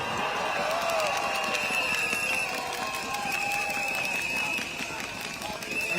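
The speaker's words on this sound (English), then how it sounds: "let's give a round of applause to our Minister Ong" A rally crowd at an election event applauds and cheers for a minister, a dense continuous wash of clapping and shouting with voices mixed through it, holding steady throughout.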